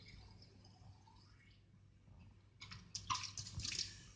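Tap water splashes into a laboratory flask being rinsed, starting as faint dripping and swelling into louder, close gushing toward the end, with no voices.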